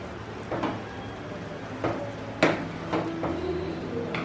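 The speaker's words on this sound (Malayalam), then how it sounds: "എന്നിട്ട് പതിയെ ഒന്ന് ഇളക്കി കൊടുക്കാം." Coconut-milk yellow rice being gently stirred in a pot, a few soft, scattered scrapes and light clinks of a spoon against the pot over quiet background.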